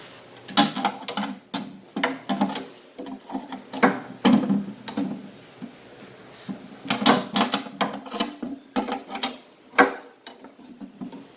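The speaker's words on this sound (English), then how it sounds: "Once you get it as tight as you can with your fingers, throw a wrench on it." A wrench tightens a fitting on a thermal heat dump, giving close, sharp metallic clicks and clatters in uneven bursts separated by short quiet gaps.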